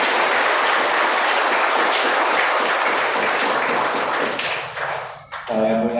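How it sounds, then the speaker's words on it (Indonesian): A church congregation applauds loudly and continuously for a choir of elderly nuns, a dense wash of clapping that fades near the end as a few tones or voices come through. "Kita beri tepuk tangan."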